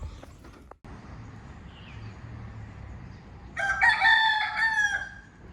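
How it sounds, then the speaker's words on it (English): A rooster crows loudly and close by on a Mae Ping River cruise boat in Chiang Mai, after a few seconds of quieter clucking and rustling outdoors. "Feisty chicken."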